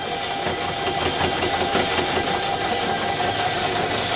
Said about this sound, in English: I'm just going to pull my fabric back just a little bit as I'm sewing.